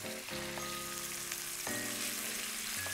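Pork spare ribs searing in a pan, giving a steady, close sizzle that runs the whole time over a faint tonal background hum.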